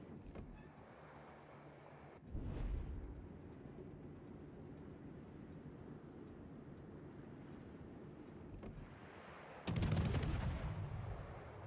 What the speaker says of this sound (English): Let the barrage commence.